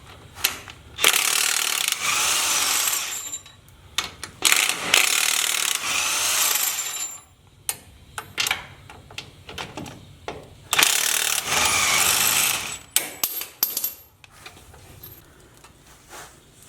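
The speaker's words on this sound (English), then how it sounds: "I'm going to go ahead and take off these 3/4 inch bolts." A ratchet backs out 3/4 inch bolts on a Jeep Gladiator steering box, giving bursts of rapid clicking that stop and start with short pauses between them, close and loud with no talking.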